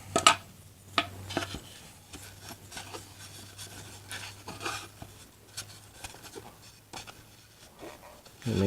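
A line drawn on a rusty metal piece while checking it for square, heard as close, dry scratchy strokes with short pauses between them.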